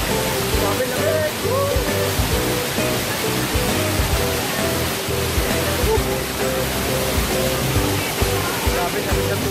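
Taytay Falls in Majayjay, Laguna roars as a loud, continuous rush of falling water, close by and filling the whole scene without letup.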